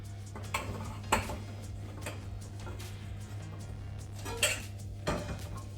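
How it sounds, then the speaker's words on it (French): An apple, cinnamon and vanilla mixture is spread into a square baking dish with a utensil, giving faint, scattered clinks and scrapes over a low, steady hum. "Au fond du moule, on va mettre notre mélange pomme, cannelle, vanille."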